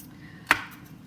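A single sharp knife chop through onion on a cutting board, one crisp impact standing alone against quiet kitchen background.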